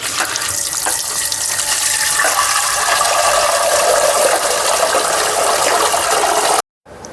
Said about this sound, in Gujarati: તો મેં આ 100 ગ્રામ જેટલો પુદીનો લીધો છે. આપણે તેને સારી રીતે ધોઈ લઈશું.